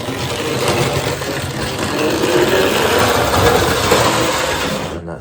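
A Hornby Dublo 3-rail model train engine runs over a crossover on a layout, giving a close, steady whirring, rattling drone that holds evenly throughout and cuts off abruptly at the end.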